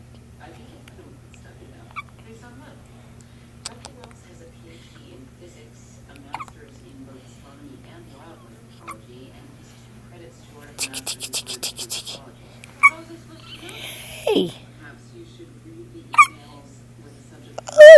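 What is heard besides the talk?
baby hiccups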